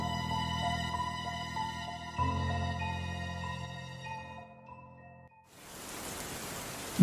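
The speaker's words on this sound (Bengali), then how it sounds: "বাইরে ঝমঝম বৃষ্টির শব্দ।" Heavy rain falls outside as a dense, steady rushing hiss that rises in the last moments, after sustained musical tones fade out.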